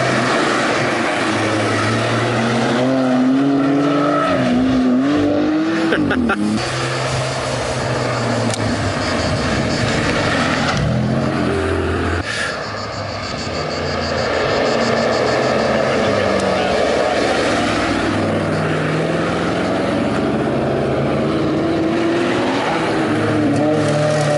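Constant loud road and engine roar from inside a moving car in Spain, with a rhythmic tyre rumble rising and falling over uneven pavement.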